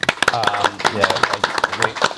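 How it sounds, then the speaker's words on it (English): An audience at a Bayswater volunteer forum gives a short round of scattered applause for an award winner, the claps mixed under a speaking voice. "Claps."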